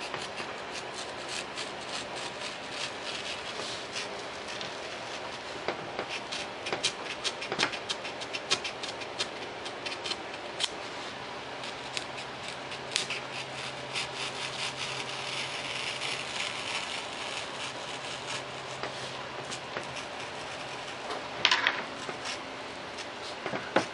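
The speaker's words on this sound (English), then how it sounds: "Now we can finish off cutting around the outer ends of the wing." A knife freehand-cutting foam board around the outer wing ends of a Fokker D7 WWI RC biplane model, a steady close scratchy rasping with scattered sharper scrapes and no talking.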